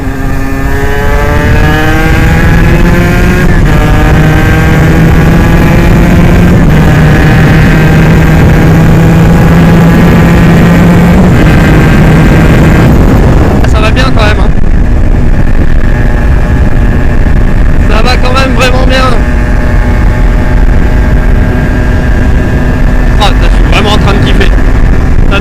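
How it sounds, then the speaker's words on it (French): The small two-stroke engine of an Aprilia RS125 motorcycle revs, its note rising and falling, then settles into a buzzing idle broken by several sharp crackling blips, loud and close throughout. "Je vais te laisser profiter un petit peu du doux son de ce petit 2 temps."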